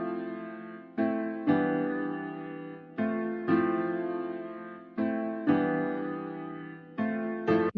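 Sustained piano chords built in FL Studio, played one after another in an even rhythm, each struck cleanly then decaying slowly before the next, clear and close with no voices.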